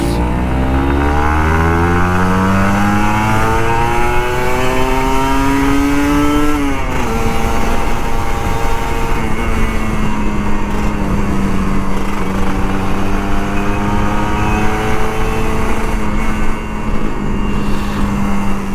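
A loud, close Kawasaki Ninja RR 150 motorcycle engine revs up through rising gears in Jakarta, pitch climbing and dropping between shifts, then holding a steady high drone.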